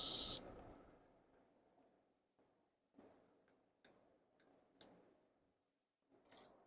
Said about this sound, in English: that covers priming your model with an airbrush